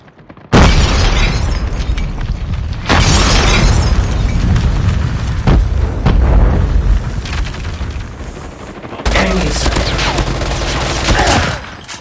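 A flashbang explodes in Call of Duty Mobile with a loud, close blast, followed by sustained roaring noise and further bursts of gunfire and booms that fill the whole stretch.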